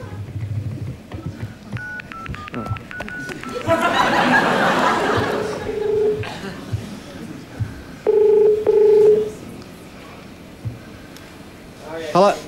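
Touch-tone dialing on a telephone during a rugby league TV show segment: a quick run of short beeping tones, then a burst of studio audience laughter, followed by two longer ringback tones, with people talking throughout.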